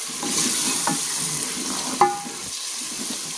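A spoon scrapes and stirs tomato masala with green chillies in a pan, with a gentle sizzle throughout and a couple of sharp clinks against the pan. The sound is close and fairly quiet, with no talking.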